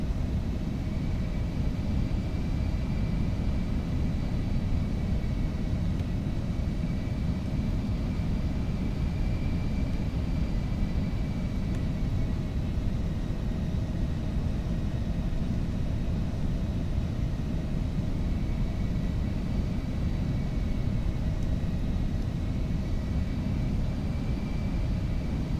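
An aircraft engine drones steadily in flight, a loud, constant rumble with faint tonal whine that holds unchanged from start to finish, with no voices.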